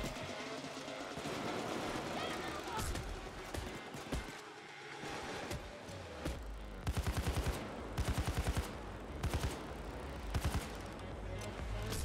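Gunfire in Payday 2 plays under voices talking over each other, with a busy mix of shots through the first seconds and then several rapid automatic bursts that grow louder toward the end.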